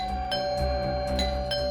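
Doorbell chime ringing repeatedly in an indoor scene of a Hindi crime drama, a bright tonal ding-dong struck about four times in quick succession over a low background hum, with no talk.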